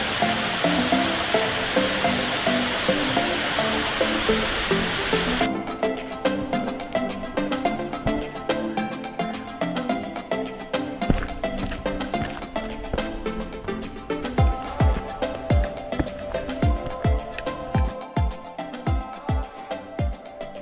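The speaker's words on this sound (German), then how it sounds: "Hier wieder wunderschöner Wasserfall" A waterfall in the Höllschlucht gorge in the Allgäu roars as dense, steady rushing water for about five seconds. It then gives way to a quieter stretch with scattered clicks and footstep-like knocks.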